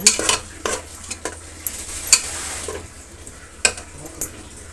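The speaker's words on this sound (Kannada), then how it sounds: "ಇದು ಹಸಿ ವಾಸನೆ ಹೋಗೋವರೆಗೂ ಹಾಗೆ ಫ್ರೈ ಮಾಡಬೇಕು ಒಂದು ಐದು ನಿಮಿಷ" Tomato bath masala fries in a pan while a spoon stirs and scrapes it in short, irregular strokes. A faint sizzle sits underneath, with no talk.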